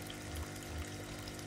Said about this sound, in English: The left wall is lined with churning tanks of water.